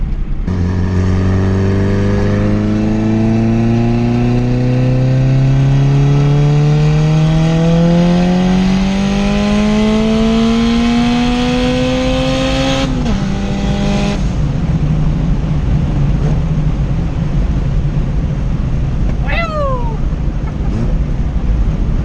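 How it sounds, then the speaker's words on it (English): Tuned, boosted single cam car on a full-throttle acceleration pull, engine note climbing steadily and loud through the revs, then a sharp gear change and continued roaring drive with a faint chirp near the end. "we'll get a full pull in now that I know it's not going to hit boost cut"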